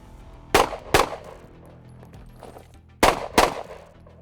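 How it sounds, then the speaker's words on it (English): Pistol and rifle fire at an outdoor shooting range: two pairs of sharp, loud gunshots, each pair fired in quick succession with a pause between pairs, no talking. "Now what I'm gonna do is I'm just gonna shoot both from each side."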